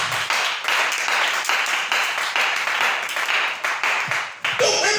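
A church congregation breaks into sustained, dense applause, loud and close, with clapping running steadily through the full stretch and a brief lull near the end.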